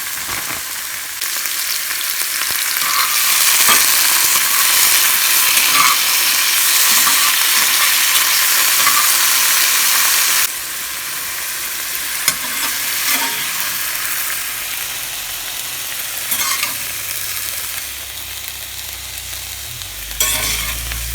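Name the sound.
frying frozen vegetables in a pan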